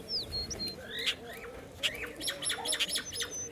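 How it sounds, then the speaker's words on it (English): Birds call in the early morning in Sipsu, Samtse: sharp chirps and squawks come in short bursts from nearby over a low, steady outdoor background, with no talk. "what sweet sound of the birds early morning here in Sipsu"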